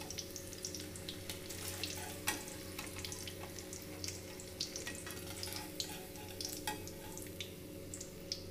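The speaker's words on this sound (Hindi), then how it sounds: "भिंडी अच्छे से फ्राई हो चुका है" Okra (bhindi) frying in oil, a steady close hiss and bubbling crackle with scattered sharp pops, continuous and even throughout without voices.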